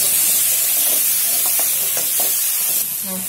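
Tomatoes and spices, fennel and poppy seeds, are sautéed in a pan for Aattukaal Kulambu, a Tamil goat trotter curry, making a close sizzling hiss with several soft stirring scrapes over a few seconds and no speech.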